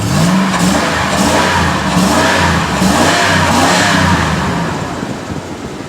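A pickup truck engine with 230,000 miles runs steadily and loudly nearby, a smooth continuous rumble with slight rises in revs.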